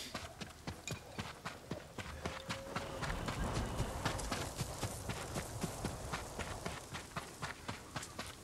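Horse hooves clip-clop in a steady, fast trotting rhythm as a mount is ridden in the samurai video game Ghost of Tsushima. The beat runs continuously with sharp, close hoof strikes.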